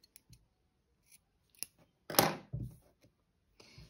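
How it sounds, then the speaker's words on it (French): Scissors snipping brown yarn while finishing a crocheted caterpillar, a sharp close crunching cut preceded and followed by small light clicks of the blades, quiet otherwise. "Je coupe mon fil marron"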